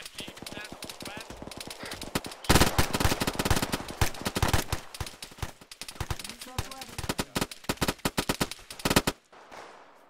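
Rapid machine-gun bursts in a team-based military shooter game, loud and close, with dense rattling volleys and scattered distant shots; players talk over the gunfire.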